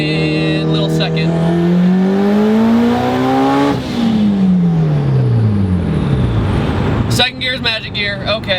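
A Mitsubishi Evo accelerates hard in second gear around a bend. The engine note climbs steadily and loudly, drops at the upshift and then rises again, and a sharp transient comes near the end.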